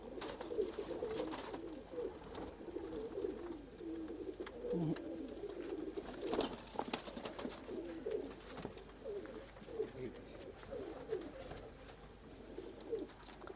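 Several Teddy pigeons coo softly and repeatedly close by, overlapping low throaty calls with some faint background rustling and occasional clicks.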